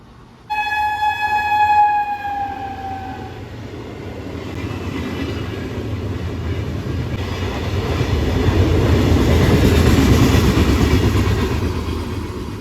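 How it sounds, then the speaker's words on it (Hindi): An Intercity Express train on the Ambala–Delhi line at Kolambi Kala railway station sounds a long horn blast, then rolls past loudly with a steady rumble and rail clatter that swells toward the end. "ये अपने इंटरसिटी एक्सप्रेस अम्बाला से दिल्ली के बीच में चलने वाली, ये अपने कोलंबी कला रेलवे स्टेशन पर"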